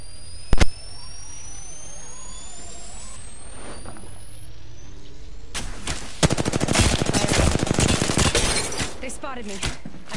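Video game gunfire: one sharp shot at the start, then after a pause a long, dense burst of rapid automatic fire, loud and close.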